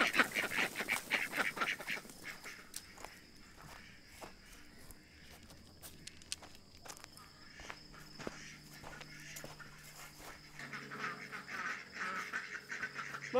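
Free-range ducks and geese quack at the start, loudest in the first two seconds, then give scattered calls over footsteps, insect chirping and outdoor background, with the quacking rising again near the end.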